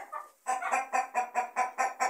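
Broiler breeder hens from a female parent line, a quick run of rhythmic, evenly spaced clucks, about eight in two seconds, close and clear with no talk.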